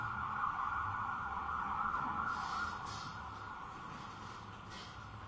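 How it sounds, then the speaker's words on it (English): Emergency vehicle sirens wail steadily outside a courtroom, a continuous muffled tone heard from a distance through the building and slowly fading as they pass. "wait until the sirens pass"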